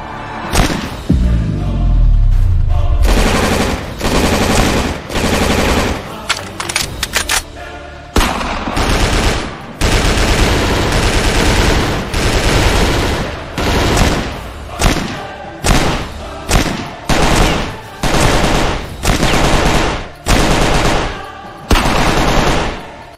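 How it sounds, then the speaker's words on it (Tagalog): Rebels fire their guns in an audio drama scene: dense, loud bursts of rapid gunfire and heavy booming shots, repeated in ragged volleys with short gaps between them. "habang nagpapaputok ng kanilang mga baril"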